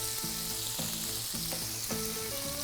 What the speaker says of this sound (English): it is sizzling and I don't want to get hurt